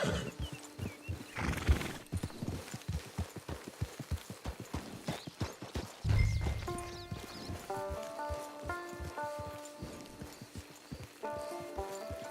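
Rhythmic hoofbeats clop steadily in Red Dead Online, followed by a horse's neigh, with gentle melodic game music tones rising in the background.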